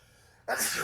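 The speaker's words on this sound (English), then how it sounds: "And I sneezed." A single sneeze bursts out sharply after a moment of near silence, close and fairly loud.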